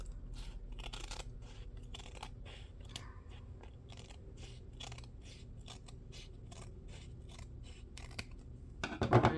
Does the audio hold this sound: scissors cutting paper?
yes